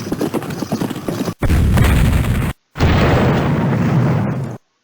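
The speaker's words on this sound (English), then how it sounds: "Oh, the Union's cannons." Union cannon fire in the Civil War Generals II video game, heavy booming blasts in loud sustained bursts broken by two short silences.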